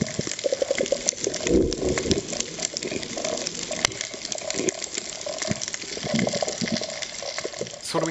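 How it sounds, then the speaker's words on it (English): Underwater ambience on a coral reef full of crackling, popping and clicking, with a bubbly, watery wash and occasional brief sharp snaps throughout. "Let's listen in to a little extract recorded from the depths of the ocean."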